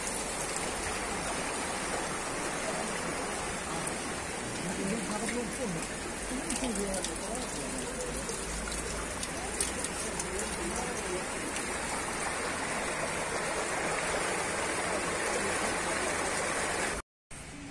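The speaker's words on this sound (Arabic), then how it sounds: "وجهزت بعض الصنابير لشرب مياه العين هنا، وهي تنبض بالمياه دون انقطاع." Spring water gushes nonstop from drinking taps at the Ain Asserdoun park in Beni Mellal, a steady close broadband rush like heavy rain, with talk faintly beneath and a brief cutout near the end.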